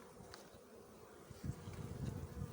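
A low, steady insect-like buzz of bees around a newly released queen hums throughout, swelling a little louder and busier in the second half, with no talking.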